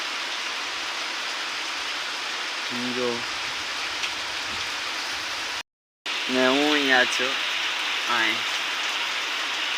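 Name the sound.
heavy rain falling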